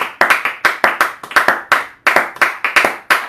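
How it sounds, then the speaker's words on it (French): Sharp, close hand claps during a church service, struck in irregular quick bursts of about a dozen distinct smacks, each ringing briefly before the next, with no talk. "il applaudit très fort le Seigneur pour le remercier"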